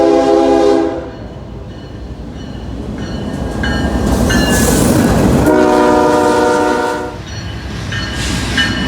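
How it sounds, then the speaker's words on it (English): A BNSF mixed freight train led by a Norfolk Southern GEVO locomotive rolls past close by, its horn sounding in repeated loud blasts over the steady rumble and clatter of the cars. "a BNSF mixed freight showed up, although it had a Norfolk Southern GEVO at the head as foreign power"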